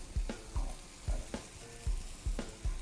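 Burgers sizzle in a hot pan after six minutes per side, with a steady frying hiss broken by regular thumping knocks roughly every half second, close and fairly loud with no talk.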